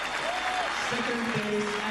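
A crowd of about 7,000 at the 2002 World Gymnastics Championships applauds steadily after a men's rings gold medal win, a continuous wash of clapping beneath a commentator's voice.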